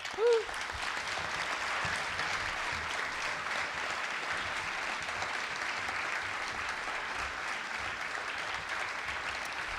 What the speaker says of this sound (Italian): grazie ed un applauso